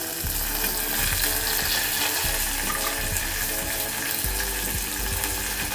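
Green chilies sizzle in hot tempering oil with cumin, pepper and ginger for samai pongal, a dense steady crackle and hiss with occasional stirring clunks, close and continuous.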